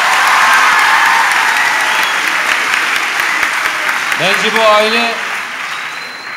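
A television studio audience gives a full round of applause for four sketch performers, steady clapping that tapers slightly toward the end while someone speaks over it briefly.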